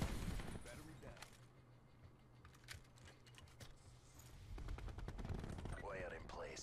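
Rapid gunfire bursts from Call of Duty: Black Ops 4 multiplayer crackle in quick succession, moderately loud, with a player talking over parts of it and a steady low hum underneath.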